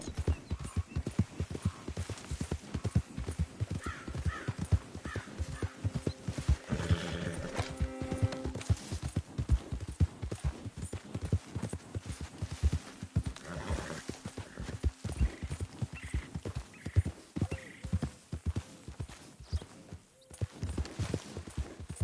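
Horse hooves clip-clopping steadily and close for the whole stretch in the Western game Red Dead Redemption 2, with a brief whinny partway through and no talking.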